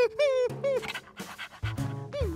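Cartoon dog panting in short, rapid, breathy bursts, mixed with musical tones and whimpery sounds in an animated children's scene.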